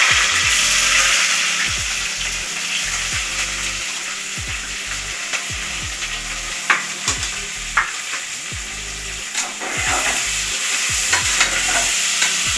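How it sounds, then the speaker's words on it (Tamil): Onions and three green chillies with biryani spices frying in a pan for chicken leg piece biryani, a steady close sizzle throughout with occasional stirring knocks and clinks of a spoon against the pan. "வெங்காயம் அப்படியே கொஞ்சம் நல்லா வதங்கட்டும்"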